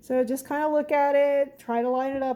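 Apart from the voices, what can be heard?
No everyday noises stand out.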